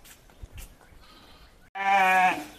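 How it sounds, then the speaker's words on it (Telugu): A flock of sheep returns from grazing to their lambs. After quiet shuffling, one sheep lets out a single loud, close, wavering bleat lasting under a second. "ఇప్పుడు చూడండి గొర్రెలు పిల్లలను వదిలేసి మేపుకెళ్ళాయి వస్తున్నాయి"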